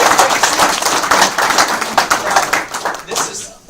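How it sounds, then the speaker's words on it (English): Audience applause at a business networking meeting, a dense patter of many hands clapping steadily for several seconds and tapering off near the end, fairly loud and close. "applause"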